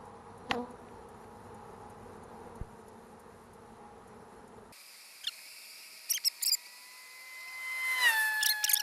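Honey bees from a hive in a water meter box make faint buzzing. It is followed by close, louder droning and whining wingbeats that rise toward the end, with a few sharp knocks and no speech.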